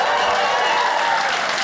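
A comedy club audience bursts into dense, steady applause, loud and close, filling the room without a break.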